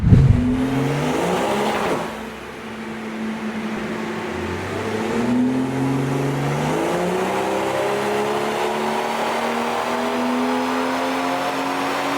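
A big-turbo BMW B58 engine revs steadily upward on a dyno through a long, continuous pull, its droning pitch climbing for over ten seconds, loud and close, with no voices.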